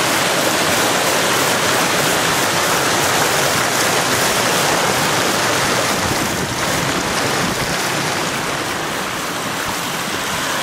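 A fast river rushes past a footpath in Japan, its loud, continuous roar of churning water filling the whole stretch at close range without pause.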